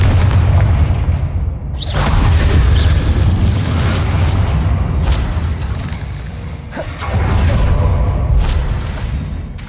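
Heavy spell blasts and booming explosions from combat in the video game Hogwarts Legacy, a loud sustained rumble with sharp bursts near two and seven seconds, no voices.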